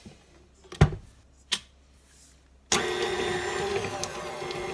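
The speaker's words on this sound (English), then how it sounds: "I'm using my stand mixer today." A stand mixer creaming a stick of room-temperature butter on low speed: a few knocks and clicks, then the motor starts with a steady close whir and rhythmic churning, no talking.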